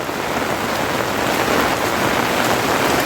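Heavy monsoon rain pours steadily in Konkan, a loud, dense, unbroken hiss of downpour drumming on surfaces close by, with no voices.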